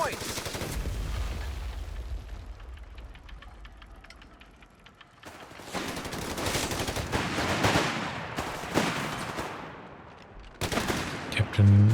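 Rapid machine-gun bursts from an aircraft strafing run in the strategy game Company of Heroes 3, heavy rattling volleys arriving in waves over distant battle noise and mechanical clanking.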